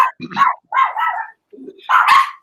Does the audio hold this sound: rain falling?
no